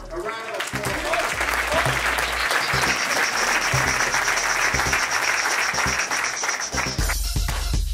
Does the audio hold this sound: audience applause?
yes